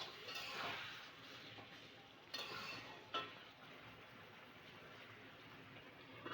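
Chicken and spinach are stirred and browned in a pan, giving a faint, steady scraping sizzle with a couple of sharp utensil clinks against the pan.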